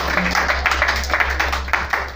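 Church congregation clapping during a sermon, rhythmic bursts of hand claps over a steady low hum, moderately loud and somewhat reverberant, with no talking.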